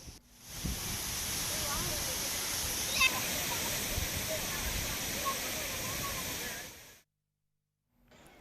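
Heavy rushing water from waterfalls at Courtallam in Tenkasi district, swollen after heavy rain, roars as a steady, dense wash for about seven seconds, with faint speech underneath and a cut to near silence at the end.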